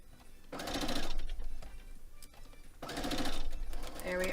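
A sewing machine stitches a foundation paper pieced quilt block in two steady, close bursts of whirring with a pause between them, ending with a few lighter clicks.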